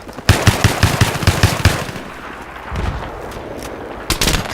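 Rapid automatic gunfire in the Battlefield 3 video game, loud bursts of evenly spaced shots followed by scattered single cracks and a final quick burst, close and sharp.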